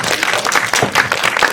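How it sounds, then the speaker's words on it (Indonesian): Brief burst of applause from an audience at a film event, loud and close, with uneven clapping rising and falling over a second and a half. "Boleh kita berikan tepuk tangan?"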